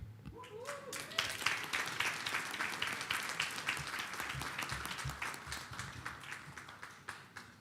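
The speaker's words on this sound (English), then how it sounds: "Bigger hand clap" Crowd applause at the Stanbic National Schools 2021 final welcoming Stanbic Bank executive director Emma Mugisha: steady dense clapping from a large audience throughout, with a brief voice at the start.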